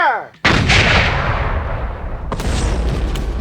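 A Civil War re-enactment cannon fires once, close and very loud, with a sharp blast followed by a long rumbling decay, then a second nearby boom.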